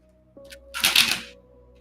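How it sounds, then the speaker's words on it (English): A brief riffle of tarot cards being shuffled, a soft crackling burst lasting about half a second, close by with a steady low hum underneath. "the way these cards don't want to shuffle"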